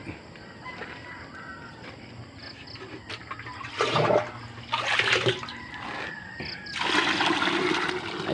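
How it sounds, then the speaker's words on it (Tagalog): Water is poured into a fertilizer mix for bitter gourd (ampalaya) plants, giving bursts of splashing and gushing in several separate pours over quieter background with faint outdoor sounds between them. "At akin ang dadagdagan ng tubig."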